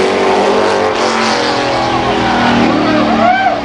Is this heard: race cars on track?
yes